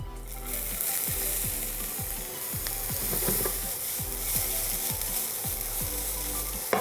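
Chopped onions sizzle in melted butter in a pan at the start of a cream sauce for baked macaroni and cheese, a steady loud hiss cut by regular rhythmic scraping strokes of a spoon.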